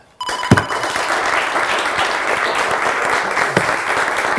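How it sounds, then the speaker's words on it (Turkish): A television word-game studio audience claps thinly after a brief ring of bell-like tones, a modest, even patter of hands that starts suddenly and carries on steadily. "Bence yine cılız alkışlar"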